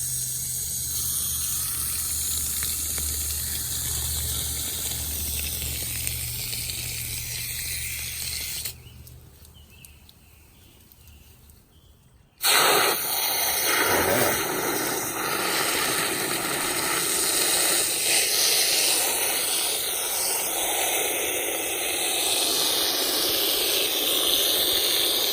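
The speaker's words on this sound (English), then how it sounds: "you want to water that down and saturate that until you see the water coming out the PVC down there" Water flowing through PVC pipe to saturate hydroponic tomatoes, a loud steady hiss and rush that drops away briefly, then surges back strongly and runs on without talk.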